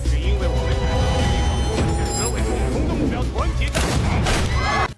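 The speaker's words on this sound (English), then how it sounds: "The gunfire sends the crowd scattering." A loud burst of gunfire from a sniper and returning shooters rings out on a street as a crowd scatters in an action movie, with heavy booms and crashes over a dense background and some voices.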